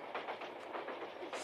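A passenger train on a rural spur line rolls along the rails with a continuous rhythmic clickety-clack, steady and moderately close, with brief surges in loudness throughout.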